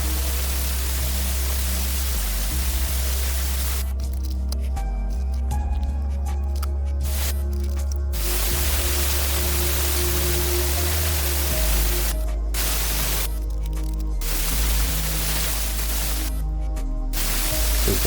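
An airbrush with a 0.5 nozzle runs at about 25 psi, spraying paint onto an O gauge Hymek model locomotive, a close, soft, steady hiss broken by several short pauses as the trigger is released and pressed again.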